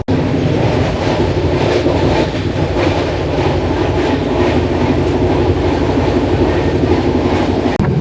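Prasanti Express passenger train running on the rails, a steady loud rumble with rhythmic clickety-clack of wheels over joints throughout, heard from onboard with no talking.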